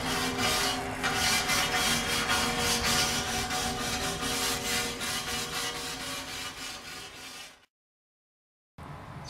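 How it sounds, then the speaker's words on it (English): A wire brush scrubs flaking debris off a historical marker in rapid, loud side-to-side strokes that rasp steadily up close, then stop abruptly into silence before a brief resumption. "You use your wire brush to remove flaking and debris from the marker."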